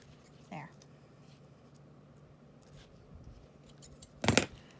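Non-fabric scissors make one sharp, close snip through lace zipper tape, after a faint earlier rustle in a quiet sewing room.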